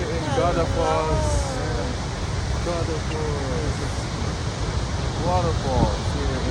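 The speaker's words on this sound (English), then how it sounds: "Waterfalls here in Akureyri" Godafoss waterfall near Akureyri, Iceland, produces a steady, broad roar of rushing water that fills the background while people chat over it.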